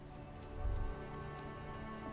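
Steady rain falls in the video game Disco Elysium, a constant wash of drops on surfaces with a brief low rumble swelling near the middle, with no speech over it.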